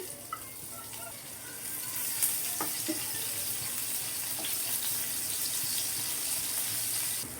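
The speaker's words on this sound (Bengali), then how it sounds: "এখন দিয়ে দিব পেঁয়াজ কুচি," Chopped onions frying in a little oil in a frying pan, giving a steady soft hiss with scattered small crackles and pops, fairly quiet and continuous.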